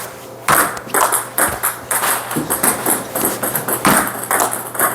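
Rapid, sharp pings of a table tennis ball bouncing on a table and paddle during a serve, in an uneven rhythm, fairly loud and close, with a steady hum underneath.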